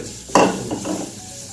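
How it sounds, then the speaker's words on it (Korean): Chopped onion and sausage stir-fry in a little cooking oil, opening with a sudden loud scrape and clatter of the utensil in the pan, then a fading sizzle with a second, lighter stir. "식용유를 살짝만 둘러서 볶아줄게요"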